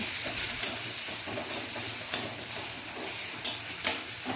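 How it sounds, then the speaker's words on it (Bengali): Chopped onion and green chili frying in oil until soft, a moderate, steady sizzle close at hand broken by sharp clicks and scrapes of a spatula stirring the pan. "এবার পেঁয়াজটা নরম হওয়া পর্যন্ত ভালো করে ভেজে নিচ্ছি"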